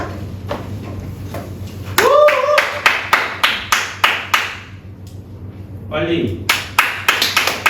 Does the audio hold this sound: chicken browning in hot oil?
no